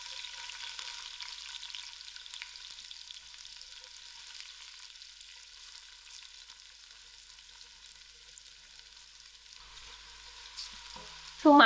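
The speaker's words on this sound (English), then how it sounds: "I'm going to put in my onions." Onions sizzle steadily in about a quarter cup of olive oil in a pot, a constant bright hiss running nearly twelve seconds without voices, ending in a short louder burst.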